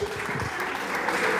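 A church congregation claps together during a pastor's sermon, a brief dense patter of many hands, with a voice faintly underneath.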